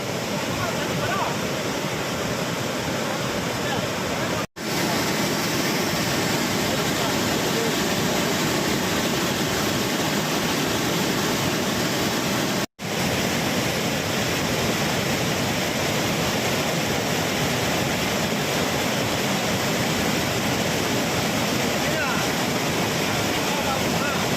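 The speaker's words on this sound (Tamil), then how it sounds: "ஜவ்வாது மலையில் பெய்து வரும் கனமழையால் குப்பநத்தம் அணை நிரம்பி 6400 கன அடி தண்ணீர் வெளியேற்றப்படுகிறது" Floodwater pours over the overflowing Kuppanatham dam in the Javadhu hills after heavy rain, a loud continuous roar of rushing water with broadband noise that barely changes, briefly cutting out twice.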